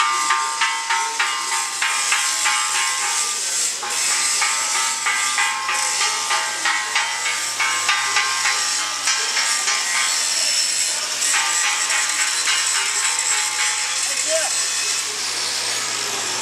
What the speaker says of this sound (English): We have four air arcs, and you can hear one going in the background right now.